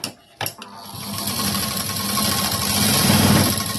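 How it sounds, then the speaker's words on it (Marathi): A sewing machine stitching a blouse seam, starting after a couple of brief clicks and then running as a steady close whirring hum that grows slightly louder, without speech. "जेवढं मला वाटत होतं एक्स्ट्रा होईल तेवढी मी शिलाई दिली."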